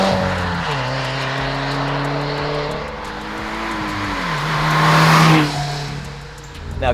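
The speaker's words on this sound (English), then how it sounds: "the AWE is definitely more of a mature exhaust with a more balanced sound" Subaru WRX/STI (2015-2021) fitted with an AWE Touring catback exhaust, a steady droning engine note that rises and shifts through revs, loud and close, with a brief surge near the end.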